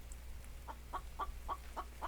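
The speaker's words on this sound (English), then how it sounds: "I hear a chicken." Chicken in the video game The Infected clucks in a steady series of about six short, evenly spaced calls, moderately close over a low background hum.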